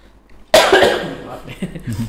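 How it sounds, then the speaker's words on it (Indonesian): A single sharp cough bursts out close by, followed by a brief rough tail and quieter throat sounds. "Batuk nih."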